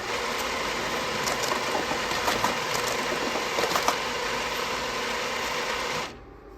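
A bank till cash dispenser counting out and dispensing $300 in notes, a steady mechanical whirring with rapid clicking and rattling that runs for about six seconds, then stops abruptly.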